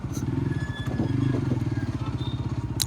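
A 2025 TVS Apache RTR 160 4V motorcycle held in third gear while crossing speed breakers, its close engine giving a steady rapid throbbing pulse with slight rises and dips in load and light rattling on top.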